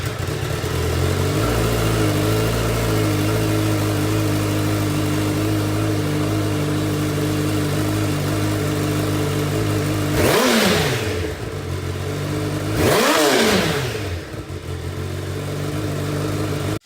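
Stock exhaust on a 2017-2019 Honda CBR1000RR sportbike idling steadily and close by, then two sharp revs that climb and fall back, about three seconds apart.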